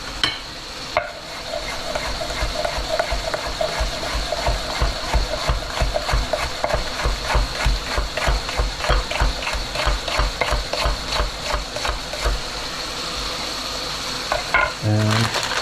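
Jalapeno hits hot anchovy oil in a pan for pasta sauce, a loud close sizzle with rhythmic stirring scrapes that continues steadily throughout.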